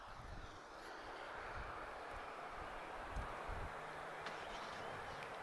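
An Air Europa Boeing 737-800 arrives at Lisbon Airport. A steady, broad jet-engine roar with some wind noise holds at an even level, heard from a distance.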